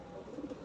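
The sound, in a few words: racer pigeon cooing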